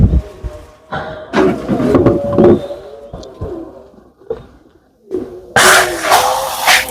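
Pigeons cooing nearby at a pigeon farm in repeated low, throaty bursts, with a brief noisy rustle or flutter near the end.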